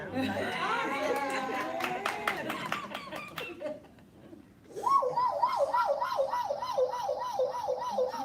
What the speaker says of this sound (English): Was that the damn police car here?